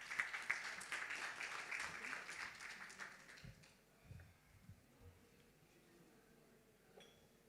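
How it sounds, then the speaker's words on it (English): Audience applause fills Quantum Hall for about three seconds as a keynote speaker is introduced at the Digital Bridge 2025 digital technology event, with a few faint clinks, then fades to quiet room noise and scattered small knocks. "Applause, guys."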